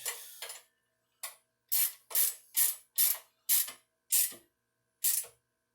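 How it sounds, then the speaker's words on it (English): Wrench tightening a bolt on a Hisun Coleman CT200-U, heard as a series of about nine short, crisp ratcheting bursts at a steady rhythm, close and clear with silence between strokes. "you might have to use a wrench again"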